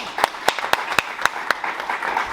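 A handful of distinct claps at a steady, slow rhythm from a small audience closing a lecture on African thought, each clap separate and fairly close, with a murmur of background noise between them.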